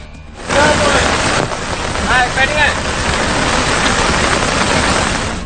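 Heavy rain pours in the hill country near Dickoya, Sri Lanka, during monsoon flooding, a dense, loud, continuous wash of falling water that surges in after a brief quieter start.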